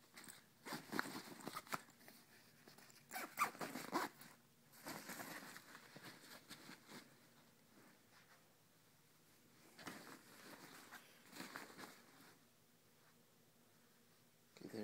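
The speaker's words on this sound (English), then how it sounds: "Fully zip up." Zipper closing on a Monster Energy 60-tab backpack: several close, raspy zipping strokes in uneven bursts with pauses between them, fairly quiet and with no talk.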